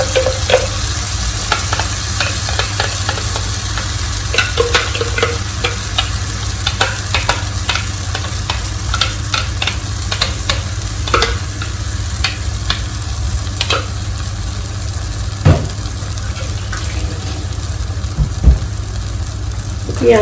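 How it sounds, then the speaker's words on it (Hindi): A spice mixture sizzles and fries in a pan while being stirred, with steady close frying hiss and frequent scraping clicks of the spoon throughout, no voices. "अब इसी स्टेज पे हम ये मिक्सचर डाल दे रहे हैं।"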